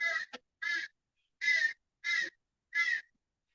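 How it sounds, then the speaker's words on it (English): A crow caws five times in a slow, even series, loud and close, each call a harsh nasal burst with clear silence between them and no other sounds. "I think it's a crow."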